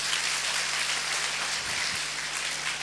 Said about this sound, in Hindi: एक बार तालियां बजा दो अपने लिए।